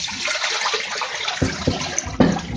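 Water is poured off soaked offal, meat by-products that sat overnight, and splashes and gurgles into a sink, with a few sharper spatters toward the end.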